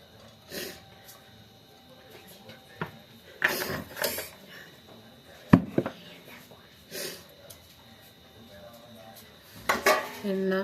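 A cooking pan set on a stove before making mango pickle, heard as scattered clanks, knocks and scrapes of cookware, with sharp bangs near the middle and end between quiet gaps.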